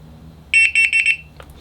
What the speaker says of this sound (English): you do is hold down the 1 digit for a couple seconds. You will hear a tone